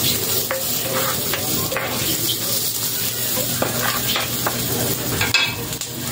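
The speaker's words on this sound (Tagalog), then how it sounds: "Gisahan nyo muna yung mga ingredients para lumabas yung aroma." Ingredients sizzle and fry in a pan for pan-fried tilapia in sweet chili sauce, with steady crackling and occasional stirring scrapes, close and continuous with no voices.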